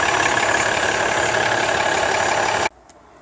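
A car engine runs steadily during a road test after a power steering pressure pipe repair, a loud continuous hum close by that cuts off abruptly near the end.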